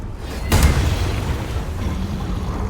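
A Booming Blade spell goes off in Baldur's Gate 3 as a single loud, sudden boom that settles into a rumbling tail of lingering noise.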